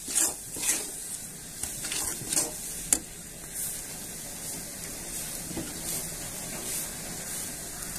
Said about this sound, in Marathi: मसाले चांगले परतून घेऊया आता